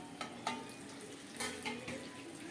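Two fish paturi fry in mustard oil in a kadai, giving a steady close sizzle broken by a few clinks and scrapes of a utensil against the pan.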